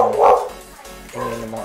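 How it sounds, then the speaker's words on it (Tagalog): Dogs barking in a couple of short, nearby bursts, loud and slightly rough, with a brief pause between them. "ingay ng mga aso."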